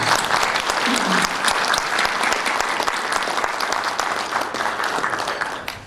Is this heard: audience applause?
yes